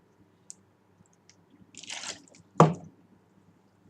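A person takes a sip of water, heard as a few soft wet slurps and a swallow close to the microphone in a quiet room, with no speech.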